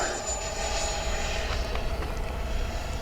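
An FMS Integral 80mm EDF model jet makes a high-speed pass across a runway, a steady loud ducted-fan whine with a high tonal edge that holds for about three seconds, carried over faint outdoor wind.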